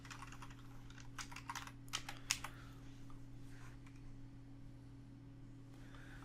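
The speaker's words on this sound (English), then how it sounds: "I'm simply going to type redirect in the search plugins." A computer keyboard typed on in short bursts of quick clicky keystrokes for about two and a half seconds, then a quieter stretch with a steady electrical hum underneath and no talking.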